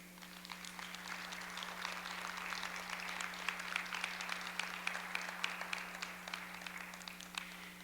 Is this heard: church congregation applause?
yes